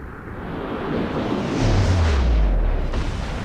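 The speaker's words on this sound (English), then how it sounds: "he is firing his guns out" Warship guns fire in the World of Warships naval game during a carrier air attack, a heavy booming blast that swells and rumbles over a dense roar of battle noise, loud and sustained.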